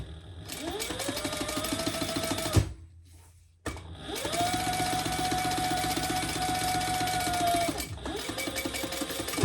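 Sewing machine running in long sustained bursts while top stitching a seam, a steady mechanical whir with rapid needle rhythm, briefly pausing and restarting, loud and close.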